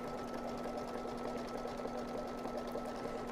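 An embroidery machine stitches the leg outline of an in-the-hoop dog softie in a triple reinforcing stitch, a steady continuous mechanical whir with a fixed hum, close and alone throughout.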